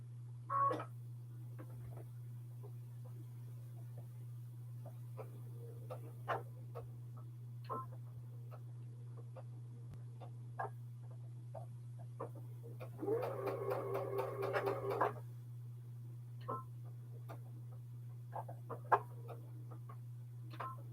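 A sewing machine stitches down a block for a Little Bit Different block-of-the-month quilt, running in one short buzzing burst of about two seconds. Before and after are quiet, scattered ticks over a constant low electrical hum.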